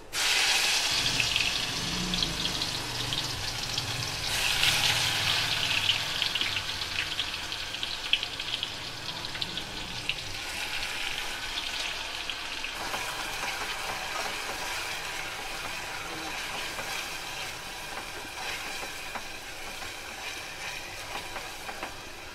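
Onion and green chilli paste frying in hot oil for a capsicum masala curry, giving a steady, loud, broadband sizzle that hisses without a break for over twenty seconds, with no talking.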